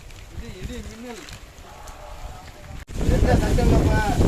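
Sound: wind and rain storm at night by the sea

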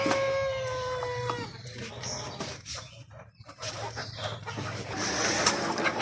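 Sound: Fayoumi rooster crowing on a poultry farm

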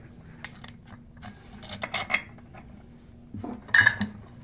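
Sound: brake caliper assembly sliding over the rotor

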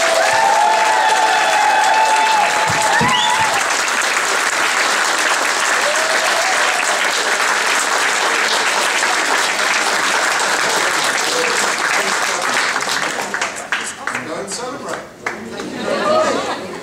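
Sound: graduation ceremony audience cheering and applauding

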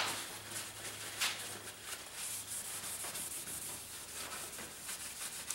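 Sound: palette knife scraping paint off glass palette

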